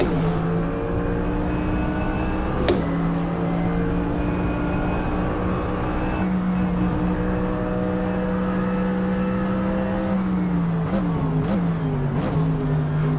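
Racing cars, including a GT-R, circulate on track in Gran Turismo or Assetto Corsa, with a loud steady engine drone that shifts pitch and then dips through quick gear changes near the end.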